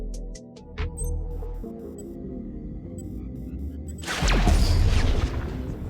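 A large orbital cannon blast in GTA Online lands about four seconds in with a loud, sudden broadband boom and roar, following a stretch of game sounds and music-like tones.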